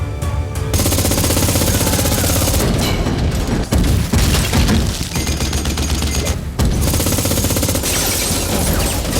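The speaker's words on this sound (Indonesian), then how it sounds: "Dan bersama Napoleon, Dili menembak semua anak buah Amar ke segala penjuru yang mengakibatkan mereka lari berhamburan keluar kantor polisi" A film action scene fills with heavy gunfire as a man shoots in all directions inside a police station: dense, loud bursts of rapid shots and booms, broken by a few short pauses.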